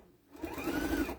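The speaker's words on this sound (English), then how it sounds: "I'm going to sew a 1/4 inch" A sewing machine stitching a quarter-inch seam on a quilt-as-you-go project, a short, close, steady mechanical whir that rises after a brief quiet start.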